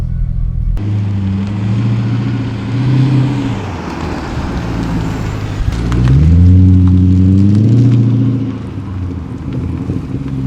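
A Mercedes C63 AMG accelerates with a deep exhaust note that climbs in pitch, eases off, then surges again louder and rising, heard close and alone without talk.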